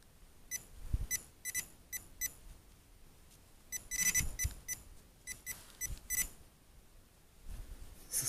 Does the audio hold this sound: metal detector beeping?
yes